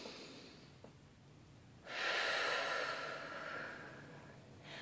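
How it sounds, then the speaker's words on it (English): A deep breath drawn in during a calm tapping relaxation exercise, a soft airy inhale swelling near the middle and easing off, close and quiet with no talking. "We're going to take a deep breath in."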